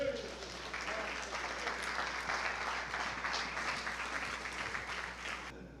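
Church congregation applauding during a sermon, a steady, moderately distant wash of clapping with voices mixed in, cutting off near the end.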